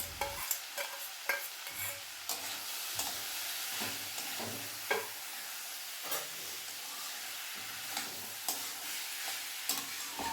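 Fried mung dal stirred into ash gourd in a pan, a continuous soft sizzle broken by frequent scraping and tapping strokes of the spoon, close and steady with no voices.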